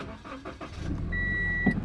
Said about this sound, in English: you can tell it's a Subaru because it's got that Subaru boxer noise to it